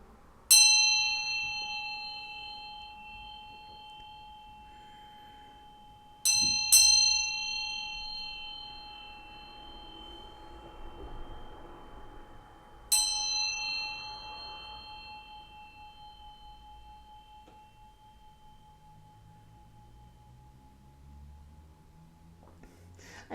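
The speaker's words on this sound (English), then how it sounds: "I'm going to ring this lovely bell here, bring some high vibrations." A bell is struck three times, several seconds apart, each strike a bright clang followed by a long, shimmering ring that slowly fades into quiet, with no talking.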